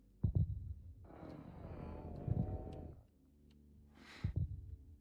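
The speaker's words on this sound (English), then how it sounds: "I don't want that heartbeat sound." Heartbeat sound effect in the Minecraft video game, deep thumping double beats recurring every couple of seconds beneath a steady low hum and a brief hiss.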